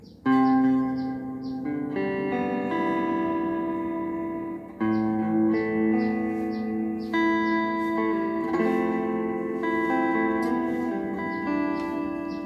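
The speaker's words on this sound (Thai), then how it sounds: "อย่างเช่นถ้าผมใส่รีเวิร์บเข้าไป" A clean electric guitar with a reverb effect plays sustained chords and single notes, each attack ringing out into a lingering wash of reverb, loud and alone without any voice.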